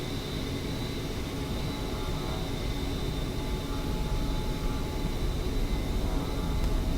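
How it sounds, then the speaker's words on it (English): An A-10A Warthog's jet engines spooling at full throttle for takeoff in the DCS World flight simulator, a steady, loud, broadband roar with a high whine that holds constant and swells slightly toward the end. "Brake on, full throttle, wait for the spool."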